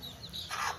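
A little baby hen in Sivagangai gives a short, faint cluck, a brief soft call over quiet background noise.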